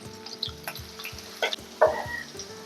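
Ginger and onion sizzle gently in hot oil in a pan for a fish curry, a steady near frying hiss with a few stirring scrapes and light clinks.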